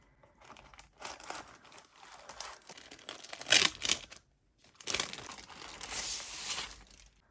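Foam packaging around a Dustsilver D84 mechanical keyboard with red Gateron switches crinkles and rustles as it is handled, in close, quiet bursts separated by brief pauses, with no voices.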